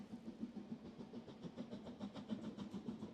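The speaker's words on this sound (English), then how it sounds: "Whoa, I can hear a train." A train passes in the distance with a rhythmic clickety-clack and low rumbling pulses, steady and moderately faint over a few seconds with no talk.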